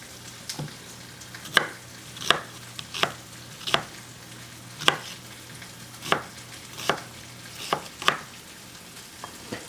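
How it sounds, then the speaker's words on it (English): Knife chopping vegetables for an ossobuco dish on a cutting board, about a dozen crisp, fairly even chops spaced under a second apart, close by with no talk. "just chop it, you know, the way that I'm doing it"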